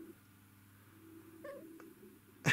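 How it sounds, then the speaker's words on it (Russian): A black cat gives a short, faint meow midway, then a louder, sharper cry right at the end, close by in a quiet room. "Вот она, черная моя кошка."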